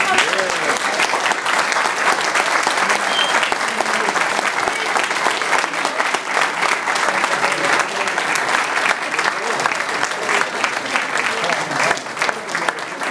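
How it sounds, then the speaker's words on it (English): An audience at a gathering with refreshments and displays breaks into sustained, dense applause, loud and even throughout, with scattered voices mixed into the clapping. "Okay, next round of applause."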